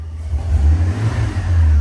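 A drag-and-drive truck's engine rumbles loud and close in a deep, steady rev, the low growl swelling slightly and holding without voices.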